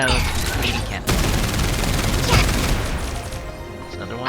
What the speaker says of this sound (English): Yeah, let's machine cannon.